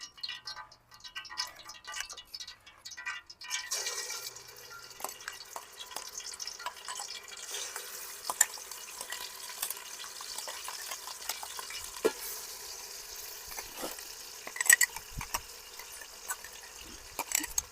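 Ginger, garlic, onion and green chilli paste frying in hot oil for a fish curry, with a steady close sizzle and occasional stirring scrapes that start after a quiet opening and continue throughout.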